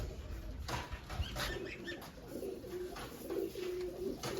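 Soft pigeon coos come and go against a busy outdoor background with steady murmur, low and somewhat distant, with a brief flutter of wings.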